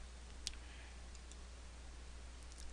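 Mouse clicks while working in SketchUp: a few faint, sharp single clicks spaced apart over a low steady hum.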